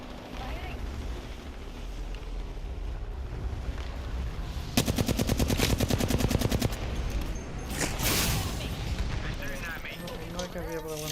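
Rapid automatic gunfire in the game Apex Legends, a sustained burst of fast evenly spaced shots lasting about two seconds over game sounds, with someone talking.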